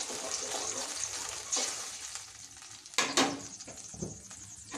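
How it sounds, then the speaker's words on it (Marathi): Onion-tomato paste with ginger-garlic paste frying in a pan, a soft steady sizzle with a couple of brief louder stirring scrapes, no one talking. "2 मिनिट आपण कांदा टमाटरची पेस्ट आणि अद्रक लसणाची पेस्ट छान परतून घेऊया"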